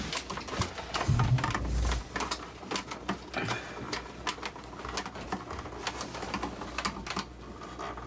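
Hard drive inside an HP ProLiant MicroServer clicking, heard as a run of sharp, irregular ticks and taps over a low hum, fairly close and steady in loudness, with no voices.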